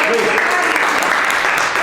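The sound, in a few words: audience applause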